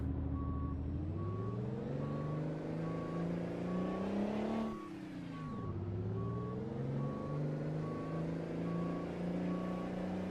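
A Mack R truck in American Truck Simulator reverses with a steady, evenly spaced backup beep over its deep droning diesel engine, which rises and dips through a gear change partway through, loud and continuous.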